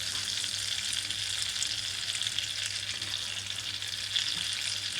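Endives frying in foaming butter in a pan, a steady close hiss and sizzle that runs without a break and with no voices.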